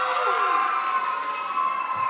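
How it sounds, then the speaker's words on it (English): High school students cheer for their school at a college day welcome event at Brown, a steady roar of crowd whoops and shouts lasting throughout. "you have to show that you think it's the best one by cheering"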